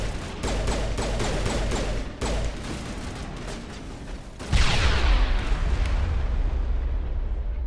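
Enemy gunfire in Mass Effect, rapid bursts of loud shots in quick volleys, then a heavy blast and a rolling, roaring aftermath that stays loud to the end.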